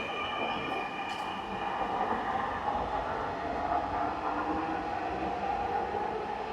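A metro rail train pulls away from an elevated station platform, a sustained rumbling roar with faint wheel squeal and hum, steady and fairly loud throughout, with no voices over it.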